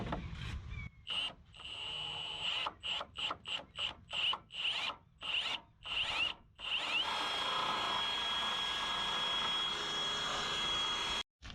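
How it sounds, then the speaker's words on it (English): A small bit drills slowly into the grille of a Ford F-250, close up: a series of short whirring bursts with brief pauses, then one long sustained drilling run. "We're gonna start off with a small drill bit right in the middle,"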